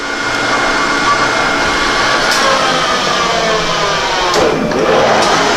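Machine drilling and tapping holes in an aluminum pallet with coolant, a steady loud mechanical whir and hum running throughout with slight shifts in pitch and a couple of brief sharper accents near the end.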